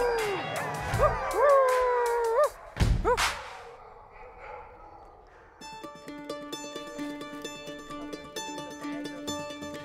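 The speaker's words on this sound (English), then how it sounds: "The dogs have a whole album of songs, and I think it kind of makes us feel like a family when we all sing together." Several Alaskan sled dogs howl together in a loud wavering chorus with yips, fading into a quieter pause before gentle music takes over.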